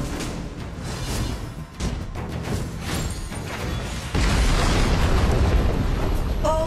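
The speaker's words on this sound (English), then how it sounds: "Your team has destroyed a tower." A tower is destroyed in a team video game, heard as a dense run of crashing, booming blasts that swells louder near the end amid layered game effects.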